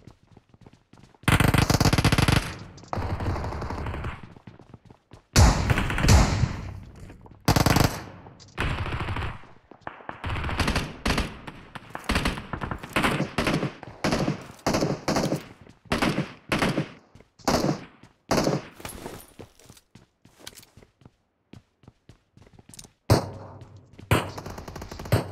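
Shooting video game gunfire sounds as loud, sharp bursts of rapid automatic fire and single shots. The bursts come in clustered volleys separated by short silent gaps across the whole stretch.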